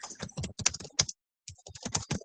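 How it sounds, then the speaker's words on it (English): Rapid bursts of frantic keyboard typing, clattering keys in quick clusters with a brief pause midway, close and alone. "Furiously typing."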